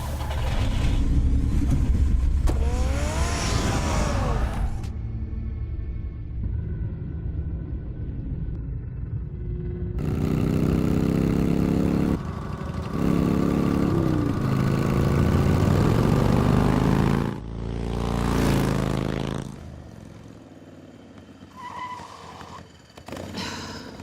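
Batman's car in the Telltale Batman video game, its engine a steady low rumble that surges and shifts in pitch as it drives, loud and continuous throughout with brief quieter gaps.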